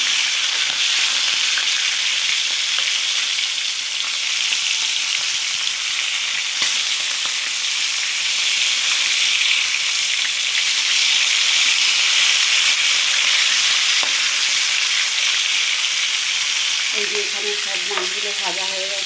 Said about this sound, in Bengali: আর বাকিটা এখানে কড়াতে ভাজা হচ্ছে লাল লাল করে মাছটাকে ভেজে নিতে হবে